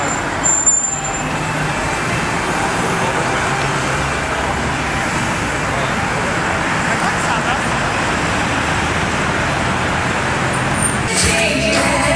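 Busy street traffic in Las Vegas, with a continuous roar of cars, buses and trucks nearby, a brief hiss of air brakes, and people talking over the din.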